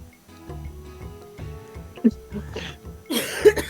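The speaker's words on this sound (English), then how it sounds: "Post-COVID coughs suck." A sudden post-COVID cough bursts out over a steady music or game-sound background, followed by a louder, harsher coughing fit near the end.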